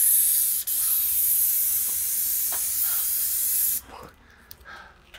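A loud, steady airless paint sprayer hisses continuously for several seconds while painting a soffit, then cuts off, leaving quiet handling noises.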